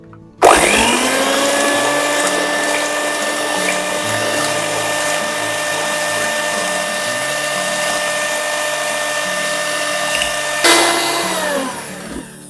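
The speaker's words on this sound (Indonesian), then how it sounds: "Kita mulai kocok." Electric mixer whisking a sugar-free Thai milk bun filling, a steady high-pitched motor whine that starts abruptly and runs evenly for about ten seconds, briefly surging near the end.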